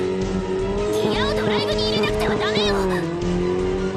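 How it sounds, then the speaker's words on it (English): A powerful car engine revving hard in a visual-novel game scene, a loud strained roar with rising and falling screeching tire squeals over the drone, close and continuous. "The sound of a powerful engine shook the underground air."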